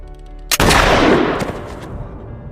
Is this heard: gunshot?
yes